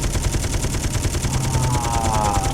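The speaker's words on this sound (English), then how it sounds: "Let's turn that Gatling gun off." A Gatling gun fires in Space Engineers, a loud, rapid, steady stream of shots rattling without pause, with a thin whine rising partway through.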